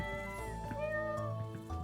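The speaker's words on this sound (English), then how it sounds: "You're a good kitty." Cat meowing in the video game Stardew Valley, a single drawn-out meow over soft background game music.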